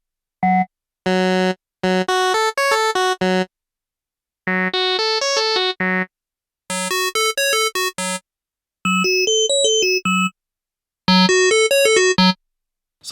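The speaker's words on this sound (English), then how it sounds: "We have waves, just like a lo-fi square wave." Korg Wavestate synthesizer playing a lo-fi square wave patch: bright, buzzy synth notes in short bursts and rapid arpeggiated runs, separated by brief silences, fairly loud and with no voice over them.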